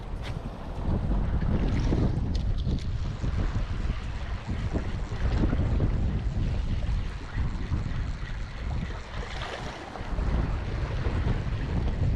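Strong gusty wind buffets the microphone throughout, with a rough roar and water sloshing underneath, loud and continuous.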